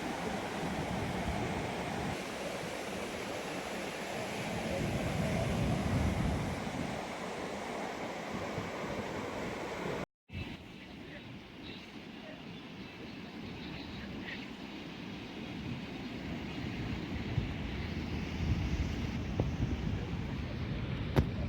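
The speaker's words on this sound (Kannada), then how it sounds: "ಮಲ್ಪೆ ಕಡಲ ತೀರ, ಇದೇ ಮಲ್ಪೆಯಲ್ಲಿ ಇರುವಂತಹ ಬೀಚ್" Surf and wind at Malpe beach seashore, a steady broad roar of waves breaking with gusting wind noise on the microphone, continuous and fairly loud, briefly cutting out partway before resuming.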